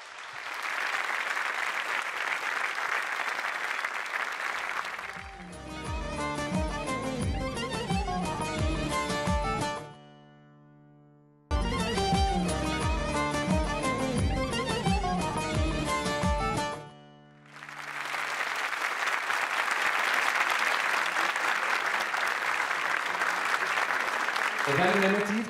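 Loud applause from a studio audience on a Turkish television show fills the opening five seconds and the final eight. A stretch of music sits between the two bursts, with a brief lull inside it.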